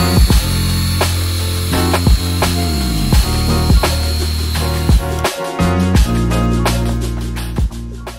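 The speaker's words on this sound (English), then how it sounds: "I'm gonna start brushing this to get all that rust off" Wire brush scrubbing rust off a brake drum from a 2013 single-cab Toyota Tacoma 5-lug, a loud, steady abrasive rasp with repeated strokes and scraping bursts, running continuously without talk.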